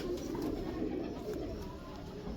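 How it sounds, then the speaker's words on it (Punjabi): Jaldar pigeons coo in a low, continuous, throaty murmur, close and steady throughout with no talking. "ਇਹ ਦੇਖੋ ਜੀ ਆ ਪਿਓਰ ਜਾਲਦਾਰਾ ਕਬੂਤਰ"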